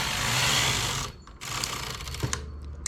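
The carriage of a knitting machine, working heavier-yarn rows on baby trousers, slides left in one loud, rushing mechanical sweep, then light clicks and clacks follow as it settles.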